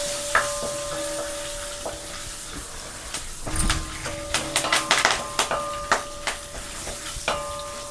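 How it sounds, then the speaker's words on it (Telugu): Tempering spices sizzling in hot oil with a pinch of turmeric, prepared for a ridge gourd chutney: a steady close sizzle with quick crackles and pops that grow thicker partway through, and a faint tone humming under it. "చిటికెడు పసుపు వేసేసుకుని ఈ తాలింపులు చక్కగా ఇలాగా వేపేసుకోండి"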